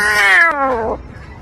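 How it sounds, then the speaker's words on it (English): A lion cub's squeaky attempted roar from a Lion King storybook reading: one strained, high-pitched wavering cry, loud and close, sliding downward and fading after about a second, with no talk over it. "Simba took a deep breath and tried to roar, but only a squeaky rumble came out."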